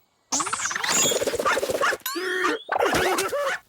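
A cartoon dog barks and yips in a lively string of squeaky, exaggerated animal vocalizations with rising whistles and slides, loud and close, in two bursts separated by a brief pause.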